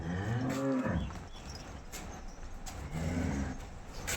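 A cow moos twice, a long low call at the start and another near the end, with quiet outdoor background between; the cow has a calf with her.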